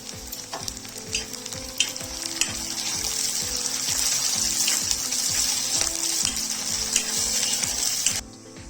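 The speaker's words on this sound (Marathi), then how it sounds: "चांगल्या प्रकारे परतून घेऊ सुद्धा थोडीशी कढीपत्ता टाकून" A tempering with curry leaves fries in a pan for homemade vada pav, loud bubbling sizzle over rhythmic low thumps of stirring, growing denser midway before cutting off near the end, with no speech.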